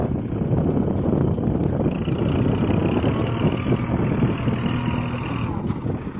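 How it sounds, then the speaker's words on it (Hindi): Kubota MU 4501 tractor engine running with its hydraulics working and a trolley loaded with stones, a steady low diesel chug heard close up under outdoor wind noise. "अभी हाइड्रोलिक कर रहे हैं ट्रैक्टर की, ट्रॉली भरी हुई है पत्थरों से।"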